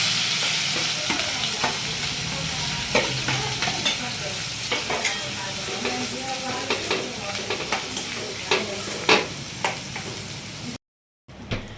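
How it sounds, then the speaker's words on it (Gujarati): Garlic, onion, green chillies and tomatoes frying in a pan on a low gas flame, a continuous sizzle broken by frequent sharp spatula scrapes and taps, close and moderately loud. "લસણ થોડું ફ્રાય થઈ જાય એટલે એમાં આપણે એડ કરશું ડુંગળી, મરચાં અને ટામેટાં."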